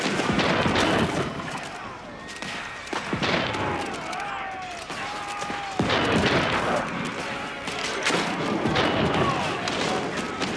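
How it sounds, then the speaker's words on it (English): Cannon and gunfire in an Age of Empires IV multiplayer battle between English and Chinese armies, with repeated heavy booms and crashing impacts over continuous battle noise, while someone talks over the game. "their cannons just do damage"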